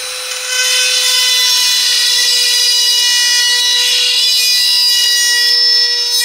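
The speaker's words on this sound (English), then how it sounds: "I'm only gonna cut as much as like the drill bit will let me cut." A drill bit cuts into the spark plug tube gasket of a 1996 Nissan Sentra GA16DE engine, giving a loud, steady high-pitched whine with a constant tone that holds for about six seconds, close and alone.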